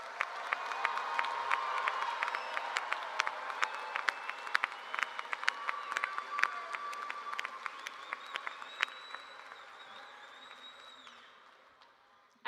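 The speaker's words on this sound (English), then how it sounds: "Let's give one more round of applause for all of our graduates." Sustained crowd applause for the graduates at the 2024 Grand View University commencement ceremony, a dense wash of many hands clapping with sharper individual claps standing out, holding steady before tapering off near the end.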